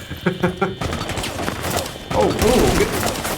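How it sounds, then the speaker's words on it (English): Rainbow Six Siege gunfire aimed at walls during a competitive match, rapid automatic bursts and impacts that grow denser and louder, with faint voices mixed beneath the shooting. "Randomly shooting walls, unfortunately."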